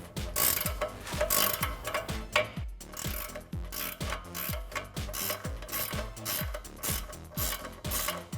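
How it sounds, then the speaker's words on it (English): A 21mm ratcheting wrench clicks in rapid repeated strokes while turning a ball joint nut on a 2019-2022 RAM 1500 front suspension, close and dry, a steady rasping ratchet with short pauses between bursts. "So we can get our 21mm ratcheting wrench on top and a 10mm socket on the bottom."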